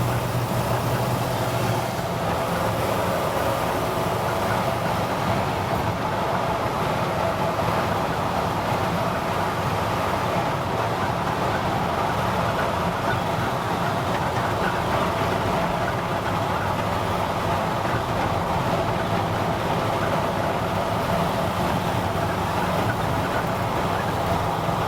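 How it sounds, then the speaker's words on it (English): A 1952 Ford pickup truck cruising on a freeway at speed, its steady engine drone and road and wind rumble holding constant and fairly loud throughout, with no voices. "you can get to see this thing going down the freeway at speed."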